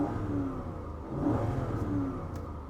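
A Lexus GX V8 engine revs in a couple of smooth climbs, rising from a steady rumble and easing back, heard close and fairly clear with no talking.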